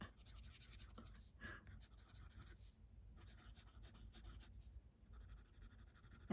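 A fountain pen with a music nib drags across fountain-pen-friendly paper, giving a faint, continuous scratchy rasp with small pauses between strokes.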